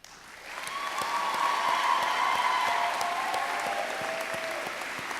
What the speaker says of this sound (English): Graduates, please give your family and friends, those that are in the room and those that are watching this from Frey Hall, a round of applause.